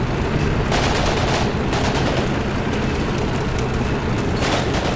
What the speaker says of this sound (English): Taking fire from the right.